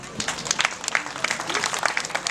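Guests clap at a wedding reception, loose scattered hand claps that rise and fall in bursts, with voices murmuring underneath.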